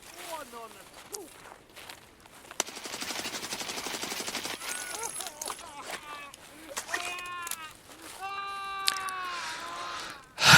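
Bursts of automatic gunfire from an enemy scav in the distance in the game Escape from Tarkov, amid rustling movement, with a voice talking over parts of it.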